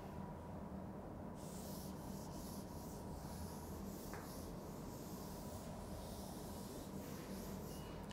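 Writing is rubbed off a board during an electromagnetics lecture, a steady scratchy rubbing and wiping that runs continuously for several seconds with no voice over it.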